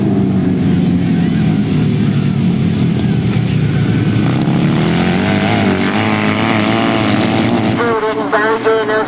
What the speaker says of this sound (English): As we look to see them come round off this top bend, John Fish and Clive Holland still going wel